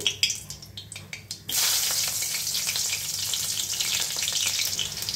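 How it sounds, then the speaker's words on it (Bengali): Nigella seeds and broken green chillies frying in hot mustard oil: a few scattered crackles, then a loud, continuous sizzle bursts up and keeps going with a spattering hiss, no one talking. "কালো জিরে কাঁচা লঙ্কা ভাজা হয়ে গেছে"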